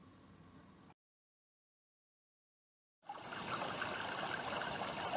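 The Thompson River flowing as a stream, a steady rushing hiss of water. A quieter stretch gives way to nearly two seconds of silence before the water returns closer and louder.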